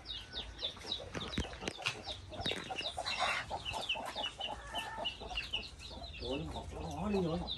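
Brooding hen clucking inside a coop, soft repeated clucks close by over low background noise, with people talking nearby.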